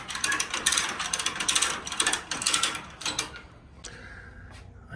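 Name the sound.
raising Daihatsu Midget II chassis onto the rack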